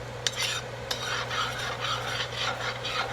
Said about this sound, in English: And when you make a roux, you got to keep stirring.